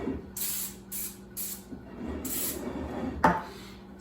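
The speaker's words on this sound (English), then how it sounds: "our final step is to spray one last time." Spray brush coating a sculpted cake surface, four short bursts of close hissing spray in a steady rhythm, followed by a brief clatter.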